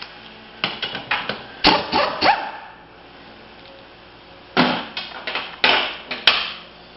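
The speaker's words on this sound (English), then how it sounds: "I'll get a gun strong enough to snap it loose." A pneumatic impact gun bursts against a nut on a PC800 motorcycle tire, delivering several loud rattling hammering bursts in two clusters with a quiet pause between them.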